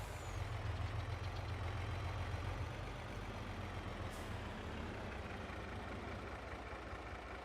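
In Farming Simulator, a delivery truck idles with a steady low engine rumble and a brief hiss like an air brake partway through, moderately loud and continuous with no talking.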